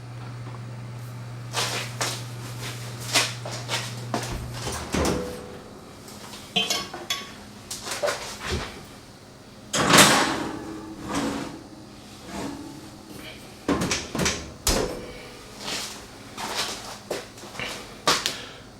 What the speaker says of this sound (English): Let's place it in the oven.